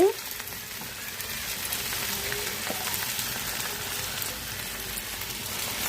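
Pieces of fish fry in a pan for a fish curry with a steady, close sizzle that holds throughout, plus one brief clink near the start.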